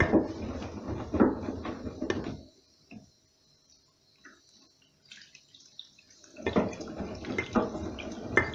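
A washing machine draws in about 6 litres of water for a 40° dark-laundry wash. The water gushes and splashes in two bursts, one at the start and one at the end, separated by several seconds of near quiet with faint drips.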